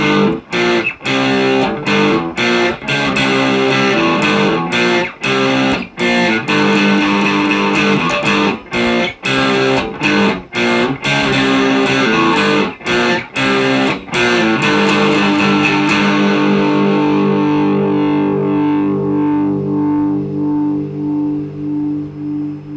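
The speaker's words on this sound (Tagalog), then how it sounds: "So, yun yung kanyang tunog kapag uh, may distortion." An Ibanez GRG121SP electric guitar played through distortion, using bridge and neck pickups, rings out loud chugging chords with short rhythmic stops, then lets a final chord sustain and fade.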